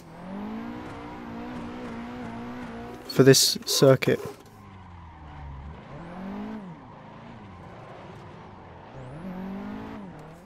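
A modded Nissan 180SX S13 drifting on a circuit in Assetto Corsa, with the engine droning and revving and a brief burst of harsh tire squeal midway, all under someone talking casually.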